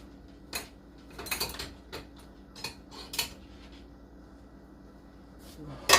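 Sliced yellow squash salted and stirred in a pan, with a series of light utensil clicks and scrapes against the pan, fairly quiet and spaced out.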